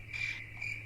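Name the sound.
crickets chirping sound effect played on a podcast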